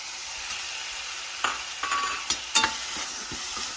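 White onions sauté in a pan for kothu parotta, giving a steady soft sizzle broken by a few sharp scrapes and clatters as they are stirred. No one speaks.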